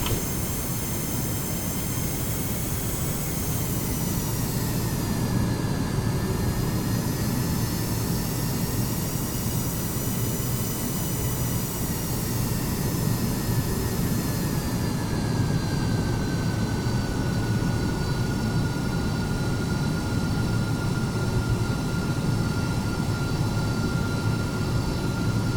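Steady, continuous jet engine roar of an MD-11 airliner taxiing in Microsoft Flight Simulator 2020, with a whining tone that slides down in pitch and then holds, loud and unbroken throughout with no talk.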